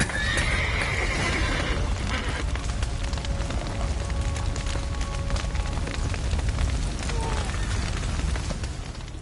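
Horses neigh and hooves clop in The Witcher 3 amid a dense, roaring backdrop with low booms, while voices call out now and then.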